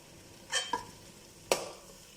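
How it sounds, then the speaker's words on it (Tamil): Tomatoes mashed and stirred in a frying pan with oil for Chennai-style chicken biryani, two or three sharp scraping strokes over a quiet sizzle. "தக்காளி நல்லா ஸ்மாஷ் ஆகட்டும். நம்ம போட்ட டொமேட்டோ நல்லா ஸ்மாஷ் ஆயிடுச்சு."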